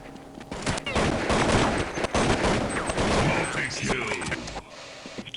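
Rapid automatic gunfire from the Counter-Strike 1.6 video game, dense overlapping shots and bursts that go on for about four seconds at close range before stopping, with a player talking under the firing.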